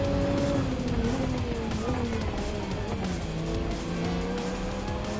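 Engine of a GR Super race car at full race pace in Gran Turismo 7, a loud steady whine rising and falling through gear changes, with tire noise from nearby rivals on the Mount Panorama circuit, continuous with no talk.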